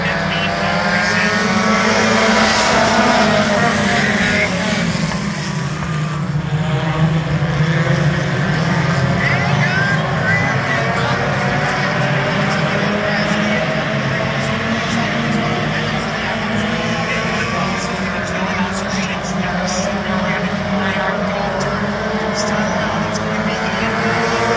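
Mini stock race cars at Ransomville Speedway roar through a 20-lap feature, engines droning steadily loud and rising and falling as the pack passes, with an announcer talking over them.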